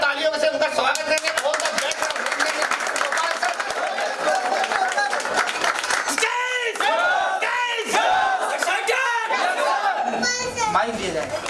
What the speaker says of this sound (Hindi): थोड़ा जोरदार तालियों से उनका स्वागत करेंगे